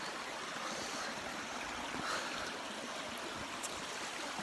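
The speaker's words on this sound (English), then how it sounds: "there's the river" A river flows outdoors in the UK countryside, its water rushing in a steady, even hiss with no voices, heard from a little way off.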